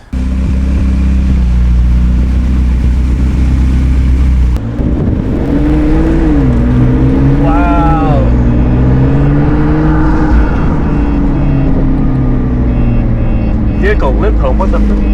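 A cheap rebuilt McLaren on a test drive rumbles loudly from inside the cabin, its engine rising and falling in pitch as it revs and accelerates, steady and close throughout.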